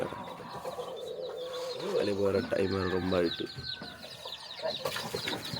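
Chickens cluck and call from a backyard coop while feed is brought out, a steady mix of near bird sounds running under a person's talk, with a louder harmonic call in the middle.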